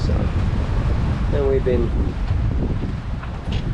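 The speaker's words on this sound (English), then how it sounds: "We got 120 degrees wind, and it's been gusting from about 13 up to 18." Gusting wind of about 13 to 18 knots buffets the microphone aboard a sailing boat on the Mediterranean, a steady broadband roar with wash of sea, while someone talks briefly over it.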